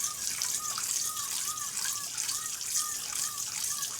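Tap water runs steadily into a mixing bowl for a light rinse, a continuous hissing splash with a faint rhythmic warble throughout, close and fairly quiet, with no talk.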